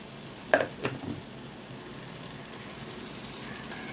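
Lentil dal with turmeric and salt being stirred in a pan for a vegetarian meal, giving a few soft scraping strokes near the start over a faint steady sizzle, then quiet.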